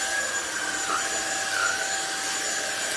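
A 600W, 50kPa household cordless vacuum cleaner runs steadily with a high whine and broadband airflow hiss, with slight pitch wobbles as it sucks up debris in close, no talking.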